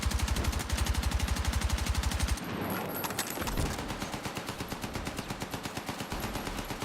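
Rapid automatic gunfire from a video game weapon, a dense rattling stream of shots that briefly breaks off and resumes in steady bursts, loud and close throughout.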